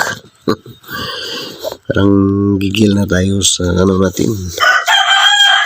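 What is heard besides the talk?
rooster crowing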